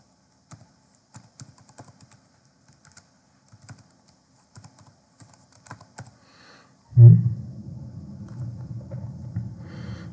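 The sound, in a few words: typing on a computer keyboard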